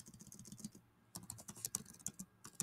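Typing a form name on a computer keyboard, a quick, uneven run of close, quiet key clicks with a brief pause near the middle before the tapping resumes, with no talking.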